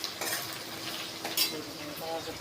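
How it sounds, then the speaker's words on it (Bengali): Fresh fish frying in oil in a pan, a soft steady sizzle with a few clinks and scrapes of a utensil stirring, close and fairly quiet. "ভালো করে লাল লাল করে ভালো করে ভাজতে হয়, কড়াকড়ি করে।"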